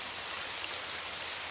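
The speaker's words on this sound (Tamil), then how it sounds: "இந்த மழை என்ன இப்படி பெய்யுது?" Heavy rain pours down steadily in a broad, even hiss with no break or let-up, close and fairly loud, with no voices.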